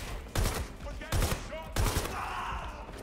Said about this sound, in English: Getting shot, mate.